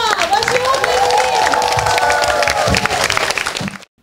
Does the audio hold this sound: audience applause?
yes